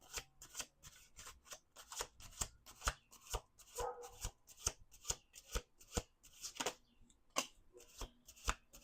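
Tarot cards riffled and bridged in quick repeated bursts, a regular crisp flutter up close, with no talking.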